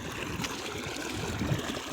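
Water flows along a channel in a soft, steady trickle and gurgle, fairly faint and continuous, with no talking over it.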